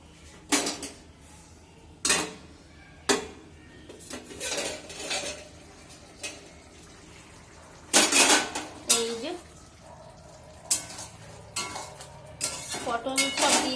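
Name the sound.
handling and washing dishes and utensils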